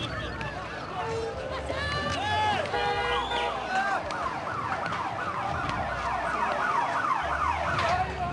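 An ambulance siren wails with rising and falling tones amid a noisy crowd scene, with people shouting and voices overlapping the siren throughout.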